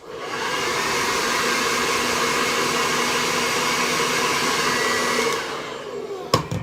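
A hair dryer blows a steady, close roar of heat onto the tape of a hair system unit for about five seconds, then cuts off, followed by a couple of sharp clicks.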